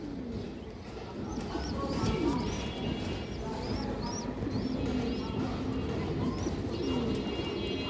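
A female pigeon among many pigeons at a pigeon farm coos in repeated low, rolling calls, while other birds chirp brightly and steadily in the background.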